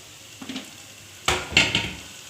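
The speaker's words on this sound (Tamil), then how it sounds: "வெங்காயத்தை கொஞ்சம் வதக்கிக்கிடுவோம் இனி இது கூட ஒரு பெரிய தக்காளி வெட்டி வச்சுருக்கிறத சேர்த்துடுவோம்" Onion and tomato sautéing in a pan for egg kothu parotta, quiet sizzling broken by a few clattering stirs and scrapes of a utensil against the pan.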